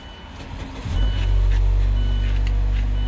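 A 2016 Mazda 6 engine fires up with a keyless push-button start, a short crank followed by a steady low idle rumble, close and loud, with no talking.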